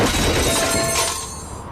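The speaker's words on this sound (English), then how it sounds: "This is the sound of a brand new outdoor grill being hurled off a 20-story building." A brand-new outdoor grill hurled off a 20-story building smashes on impact: a loud, close crash of breaking metal and glass that fades into scattered debris.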